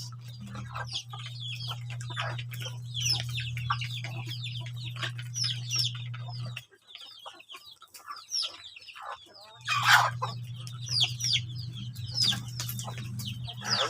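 Native chickens and chicks clucking and peeping continuously, with a steady low hum underneath and a brief louder squawk near the end.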